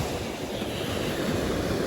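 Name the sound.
sea waves at the beach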